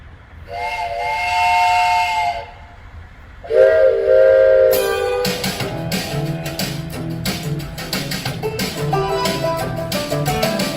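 Steam train whistle blasts, two long sustained toots, then rhythmic chugging and clanking of a train with more whistling, loud and near.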